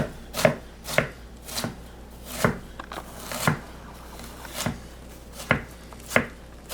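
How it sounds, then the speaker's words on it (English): Kitchen knife chopping fresh ginger on a cutting board for a bourbon ginger apple sauce, about a dozen crisp, evenly spaced thuds close up, with no talking. "Right now I'm just breaking down this ginger a little bit more."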